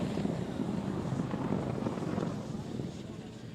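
A drift car's engine at a drifting competition round drops off the revs, a dense rough roar mixed with wind noise that eases down after about two seconds.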